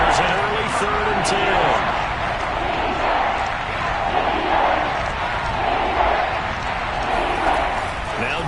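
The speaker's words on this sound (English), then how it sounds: "Crowd getting in it a bit already" American football stadium crowd at a Steelers–Seahawks game keeps up a steady, loud roar throughout, with a broadcast-style voice talking over it near the start.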